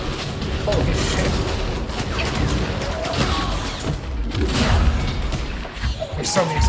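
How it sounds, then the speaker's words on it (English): Rapid explosions burst through a chaotic fight in the video game Control on PS5, with repeated booms, crashes and thuds in a dense, loud barrage over several seconds and a voice speaking beneath the din. "There's so many explosions going off."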